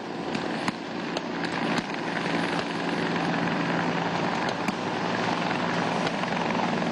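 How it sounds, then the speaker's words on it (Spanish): Military helicopter flying during a rescue and extraction demonstration at a National Guard anniversary event, its steady rotor roar loud and continuous throughout with no voices. "El helicóptero regresa nuevamente al lugar"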